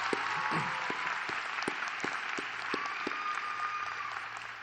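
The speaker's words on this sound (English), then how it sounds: "Graduates, would you show your appreciation with a big round of applause for these amazing people?" Graduation ceremony audience at Seminole Ridge Community High School applauding steadily with some cheers, a dense continuous wash of clapping throughout, with no talk over it.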